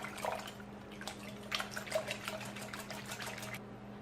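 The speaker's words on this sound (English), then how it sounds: "I'll whisk that till it's smooth." Banana, eggs, water and coconut extract are whisked until smooth for a caramelized banana skillet cake, giving a soft, steady wet swishing with faint rhythmic taps of the whisk against the bowl under a low background hum.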